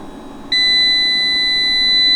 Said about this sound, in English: it's going to count down and it's going to beep really loud.